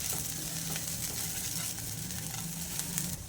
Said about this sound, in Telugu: వీటన్నిటిని కలుపుకొని ఇంకో 2 మినిట్స్ పాటు ఫ్రై చేసుకుందాం